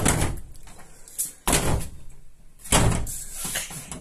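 An insulated steel door is swung and shut three times, each a loud impact followed by rattling and ringing that fades, with quieter handling noise between.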